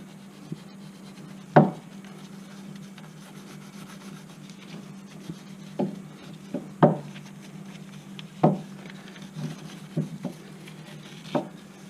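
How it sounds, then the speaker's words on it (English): A little brass toothbrush scrubs a Chevy Malibu front wheel bearing part clean, with close, scratchy strokes and occasional sharp taps over a low steady hum. "Little brass toothbrush. And we're just gonna scrub that clean."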